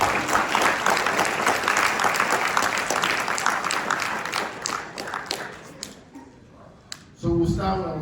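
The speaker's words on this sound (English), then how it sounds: "Let's give a round of applause, please." An audience claps through a civic education panel session, the applause thinning out toward the end before someone begins speaking.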